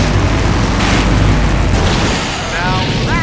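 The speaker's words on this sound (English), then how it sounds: "Now that's an explosion, ladies and gentlemen." A huge explosion in the video game Full Throttle Remastered, a loud, sustained roaring blast of broadband rumble that swells and slowly tails off.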